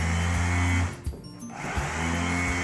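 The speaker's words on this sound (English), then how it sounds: "all you have to do is place the sander on top" An electric sander buzzing steadily as it scrubs wet felt slippers, a loud continuous motor drone that dips briefly in the middle before resuming.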